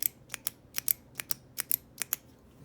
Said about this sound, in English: this is the best click I've heard out of this Zebra.